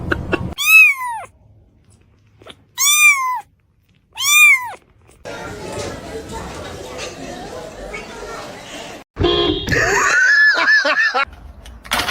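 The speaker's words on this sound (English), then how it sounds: "I told you it was a little kitty." A little kitten gives three loud, clear, drawn-out meows spaced a second or two apart, followed by rustling and then a burst of people talking and laughing.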